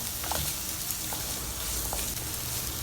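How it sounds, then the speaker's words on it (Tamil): Chopped bottle gourd sautés in hot oil while being stirred, a dense continuous sizzle with faint occasional scraping, close and without talk. "வெட்டி வச்சுருக்க சொரக்காய் போட்டு நல்லா கிண்டி எண்ணெயிலே வதக்குவோம்"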